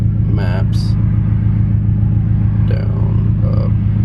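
A 2017 Subaru STI with a loud aftermarket exhaust drones at a steady low rumble while cruising country back roads, heard from inside the cabin, with a few brief voice sounds over it.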